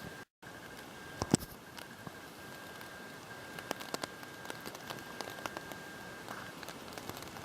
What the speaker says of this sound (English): It was raining last night, you heard it